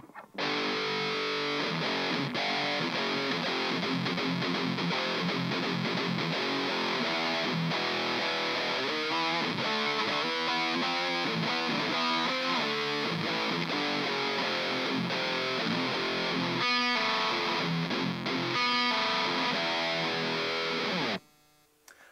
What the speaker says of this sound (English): texture we're going to have some fun with is a Gibson Les Paul. We're going to mess around with the HD 147 on a little bit higher of an overdrive setting